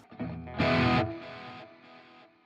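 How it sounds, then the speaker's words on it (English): Overdriven electric guitar on a Fender Tone Master Pro with stereo tape echo added: a few distorted chord hits, the loudest in the middle, followed by repeating echoes that trail away at moderate volume. "let's turn on the Stereo Tape Echo"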